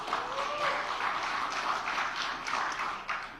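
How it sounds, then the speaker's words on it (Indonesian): Audience applause fills a political speech venue, steady dense clapping throughout with no break, moderately loud and close. "Ya yang keren ngapa sih ya tepuk tangannya?"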